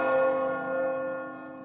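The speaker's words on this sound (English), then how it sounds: "the bell's ringing" A single resonant, church-style bell strike rings out inside a video game, its clear tone fading slowly over a second and a half with nothing else around it.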